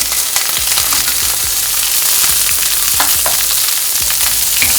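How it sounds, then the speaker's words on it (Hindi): Carrots, beans and peas sizzle in a pan over a low flame for masala oats, a constant close crackling fry with scattered spatula taps and stirring scrapes throughout. "लो फ्लेम पर हम सभी चीज़ों को थोड़ा सा भून लेंगे"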